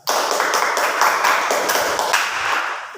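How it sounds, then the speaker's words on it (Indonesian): A small group claps steadily for several seconds at a school debate in Indonesia, with fairly dense, close applause and no talk over it. "Beri tepuk tangan kepada tim afirmasi."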